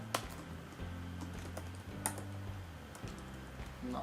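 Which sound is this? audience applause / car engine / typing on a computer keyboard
typing on a computer keyboard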